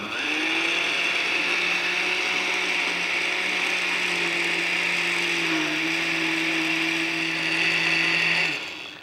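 A Cuisinart blender runs on its soup and sauce setting, mixing whole-wheat waffle batter with a steady, loud motor whine and grinding hum. It keeps going for several seconds and then cuts off sharply at the end, with no talking.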